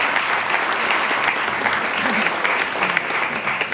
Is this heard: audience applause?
yes